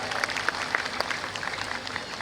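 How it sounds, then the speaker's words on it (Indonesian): A crowd claps for the choreographers at a festival opening in Bitung. The steady applause runs through the short stretch, with a few sharper individual claps standing out. "tepuk tangan dulu buat para"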